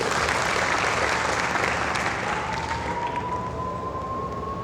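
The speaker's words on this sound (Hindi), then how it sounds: "ताली बजाओ इस बच्ची को।" An audience at a youth festival talk breaks into dense, sustained applause, a loud wash of many clapping hands that carries on evenly, with a faint whistle-like tone rising near the end.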